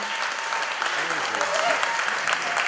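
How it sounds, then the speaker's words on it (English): An audience applauds a chef voted best chef by Food & Wine Magazine, a continuous wash of clapping at fairly close range with a few voices talking and calling out over it. "Give him a round of applause"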